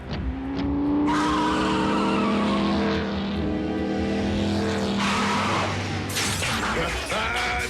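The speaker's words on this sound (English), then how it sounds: "I'd know the hum of that engine anywhere." Engine of a car from an animated robot series, a steady loud motor hum with sweeping pitch as it drives in, tires squealing and skidding near the end.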